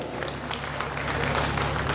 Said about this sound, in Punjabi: ਇੱਕ ਵਾਰੀ ਫਿਰ ਆਪਣੇ ਆਪ ਲਈ ਤਾੜੀਆਂ ਮਾਰ ਲਓ